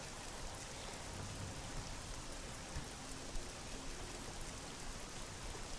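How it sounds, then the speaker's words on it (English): Steady rainfall in the Oblivion video game, a soft, even hiss of rain pattering on surfaces that fills the whole stretch at low volume, with no talking. "Oh, why is it still raining?"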